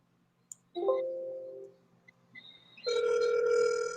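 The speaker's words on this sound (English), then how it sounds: "Can you guys hear the phone ringing?" An outgoing phone call rings through speakerphone: a click, a tone that sustains for about a second, a pause, then a brighter sustained tone that starts again, fairly loud and clear with no talking.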